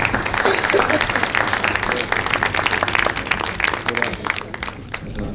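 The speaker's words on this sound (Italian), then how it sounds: "un applauso." A crowd applauds at a diocesan pastoral conference, dense clapping filling the whole stretch at a steady level with a murmur of voices underneath.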